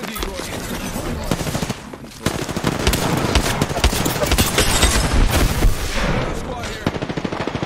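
Sustained bursts of automatic gunfire in the video game Apex Legends, loud and dense with overlapping shots and game effects, pausing briefly before resuming in continuous rattling volleys.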